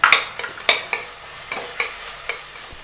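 Onion fries in a pan with crushed ginger, garlic and fennel, a soft sizzle under a string of sharp spatula scrapes and taps, close and uneven in rhythm.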